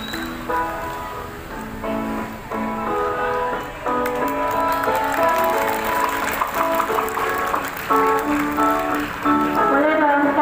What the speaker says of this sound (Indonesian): Boleh dong sekali lagi tepuk tangan untuk 11-1